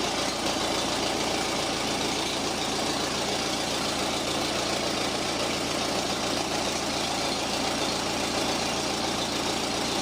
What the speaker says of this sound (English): See about this ZB, it just starts right up.